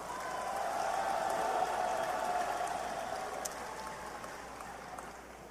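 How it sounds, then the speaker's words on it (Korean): Audience applause at a Democratic United Party presidential primary joint speech rally in Ilsan, honoring seven candidates: a dense, steady wash of clapping across the whole stretch, fading slightly toward the end, with no speech over it. "이 7분의 후보님들께 뜨거운 격려의 박수 부탁드리겠습니다."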